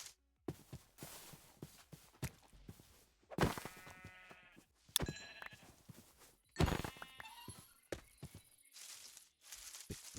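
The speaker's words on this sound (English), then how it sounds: "Okay, got some sheep, so that's actually a good thing." Sheep bleat several times in a Minecraft game world, short wavering calls spread through the stretch, mixed with soft footstep-like taps and scattered clicks.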